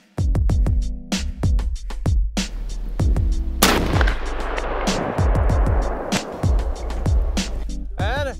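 A sniper rifle fires at five fire extinguishers amid repeated loud, sharp shots with booming echoes, plus a spreading hiss after one hit, all close and dense with little pause.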